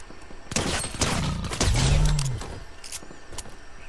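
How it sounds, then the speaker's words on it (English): Gunfire from other players in a video game, a loud cluster of rapid bursts and impacts over a couple of seconds, then fading to scattered sharp shots. "There's people like shooting over here"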